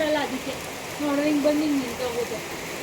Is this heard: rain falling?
yes